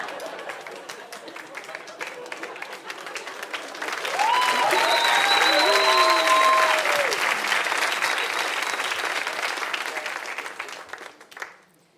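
A stand-up comedy audience breaks into applause that builds into a full, sustained roar of clapping with cheers and whoops, then tapers off near the end, with crowd voices throughout.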